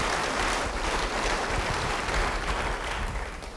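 Congregation in an Indonesian church service clapping together, a dense steady wash of applause filling the room for a few seconds with no voices over it.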